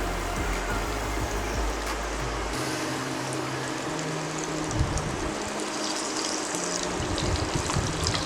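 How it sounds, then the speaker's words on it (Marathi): Flour-coated chicken pieces fry in hot oil over medium heat, a dense, continuous bubbling hiss that stays steady and fairly close, with a low hum fading out early on. "तेल तापल्यावरती आपण मीडियम गॅसवरती हे फ्राय करणार आहोत।"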